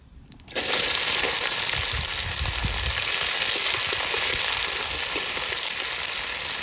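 Onions sizzle and crackle steadily in hot oil with bay leaves and cumin after a short quiet start, a loud, continuous frying hiss close by.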